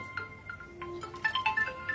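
A phone ringtone plays a short melodic tune of bright repeated tones, fairly loud and close, during shopping for readymade garments, with faint room noise beneath.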